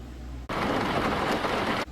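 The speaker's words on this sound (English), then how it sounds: "The rain sounded like white noise interference as it battered the car." Rain drums hard and steady on a car's roof and windows, a dense roaring hiss that starts abruptly and stops just as suddenly.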